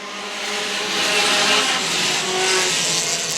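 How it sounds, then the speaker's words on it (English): Pure Stock race cars roar around a speedway oval during a feature race, a loud continuous engine drone that swells and fades as the cars pass, with no talk over it. "Pure Stock's back underway."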